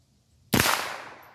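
A Remington Golden Bullet .22LR rifle fires a single sharp, loud crack that decays over about a second, after a quiet lead-in.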